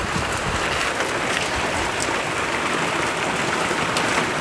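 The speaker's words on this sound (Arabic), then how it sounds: "قاعدة تمطر" Steady rain pours down on a cold, stormy day, a dense unbroken hiss that stays loud and even throughout with no voices.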